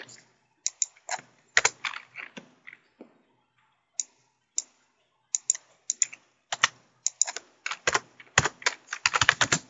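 Typing on a computer keyboard while making a poster in Publisher, with irregular bursts of sharp key clicks, some quick runs and brief pauses, close and clear in a quiet room.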